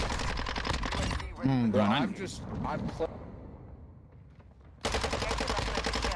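Rapid automatic gunfire in the shooter game Modern Warfare 2 rattles loudly near the start and again near the end. A voiced exclamation and game chatter fill the gap between the bursts.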